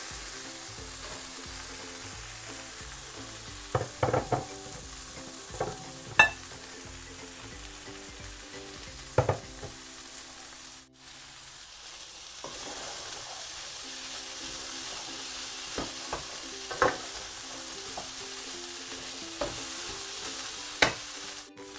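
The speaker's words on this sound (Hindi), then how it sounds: "चनों के साथ अच्छी तरह मसाला हमारा भुन चुका है। अब हम इसमें आलू शामिल कर देंगे।" Chickpeas and potatoes are stir-fried in masala with a soft continuous sizzle, punctuated by scattered clinks and scrapes of a spoon against the pan, with a brief lull midway.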